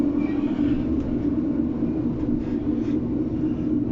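Steady onboard rumble of an East Midlands Railway class 156 diesel multiple unit, unit 156411, running between Barnetby and Market Weighton. The engine drone and wheel noise stay loud and constant throughout, with no talking.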